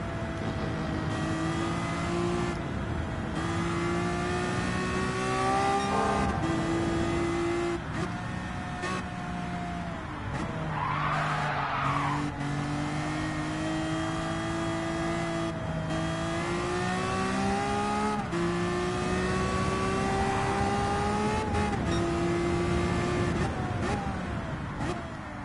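A Ferrari 308 GTB in a racing video game drones steadily for the whole stretch, with its engine pitch rising and falling through shifts and revs. A brief tire screech cuts in near the middle.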